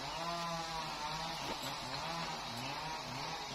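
A G4500 chainsaw cuts through the crown of a huge dau tree near Ba Chuc market, its engine droning steadily with slight pitch wavers, heard at a moderate distance without talk.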